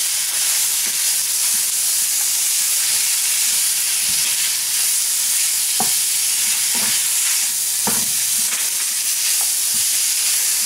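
Onions frying in a pan for a sausage pie, a steady loud sizzle with scattered short clicks and scrapes of stirring throughout, no voices.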